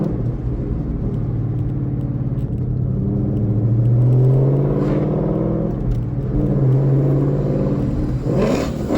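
A 2017 Ford Mustang GT's engine rumbles close by and revs up and down a few times over a steady low idle, with no talking.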